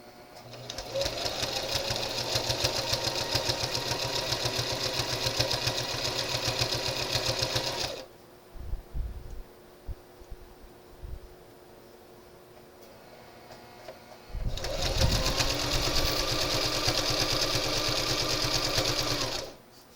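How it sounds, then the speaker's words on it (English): A sewing machine stitches thin knit straps in two steady runs, a loud, even whirring hum for about eight seconds, a pause filled with faint handling noises, then a second run of equal length. "You're stitching on top of that."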